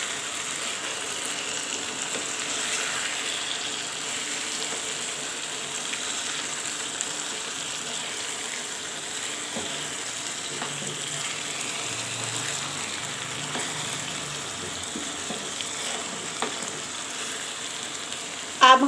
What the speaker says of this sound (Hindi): अब हम इसे चम्मच की मदद से हल्का हल्का हिलाएंगे